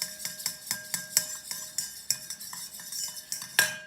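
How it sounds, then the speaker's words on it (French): A utensil stirs a homemade cosmetic mixture in a small container, giving quick rhythmic clinking scrapes against the sides, close and clear with no talking. "On va mélanger un peu quand même."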